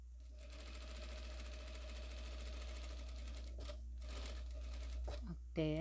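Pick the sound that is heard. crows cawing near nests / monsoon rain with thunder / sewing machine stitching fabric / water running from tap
sewing machine stitching fabric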